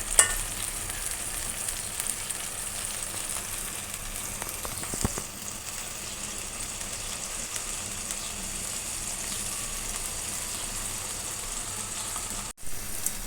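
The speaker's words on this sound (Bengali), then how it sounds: "সবগুলো উপকরণ ভালোভাবে কষিয়ে নেওয়া হয়েছে।" Steady sizzling of spices and chili sautéing in oil for a taro leaf curry, a continuous close frying hiss with a few stirring scrapes and a brief clatter near the end.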